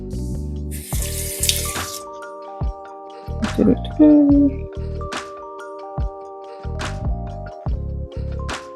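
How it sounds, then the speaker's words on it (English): Water runs from a tap or is poured over sliced ginger in a cup to top it up for ginger tea, splashing in short bursts over steady background music. "you would just top up with water"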